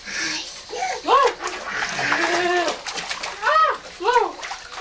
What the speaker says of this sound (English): Back to blowing bubbles.